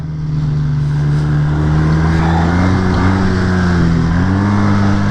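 A snowmobile engine drones steadily and close on trails at -3 degrees F, its pitch climbing gradually as it accelerates without letting up.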